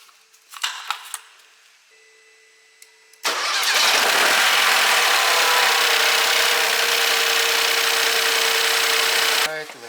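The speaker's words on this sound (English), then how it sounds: "Let's start the engine for about 10-15 seconds." A Peugeot 308 car engine cranks and catches, then settles into a steady, loud idle for several seconds before cutting off; faint clicks and handling noises come before it starts.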